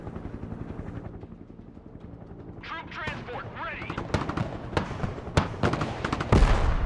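Gunfire in the video game Broken Arrow during a heliborne assault with American special forces: scattered sharp shots and bursts over a helicopter rotor drone, with people talking.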